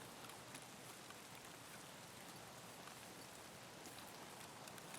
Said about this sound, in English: the rain is like making sounds that sound just like my own footsteps